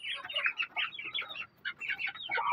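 Half-grown native chickens, a mix of young stags and hens, give busy overlapping clucks and chirps close by in short bursts with a brief pause, no talking.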